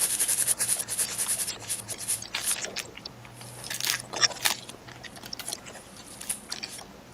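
Crinkly rubbing of a foil trading card pack, a continuous papery scratching with scattered crisp crackles that swell and fade, close and moderately loud, with no speech.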